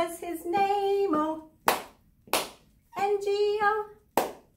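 Sharp hand claps take the place of missing letters while the Bingo children's song is sung, coming as single loud claps between sung phrases and spaced about half a second apart.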